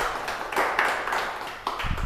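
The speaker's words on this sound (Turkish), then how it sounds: "Ölü gibi alkışlıyorsunuz" A cooking masterclass audience claps weakly after a winner is announced, giving a few soft, scattered, half-hearted claps under a hazy room noise, with a low thump near the end.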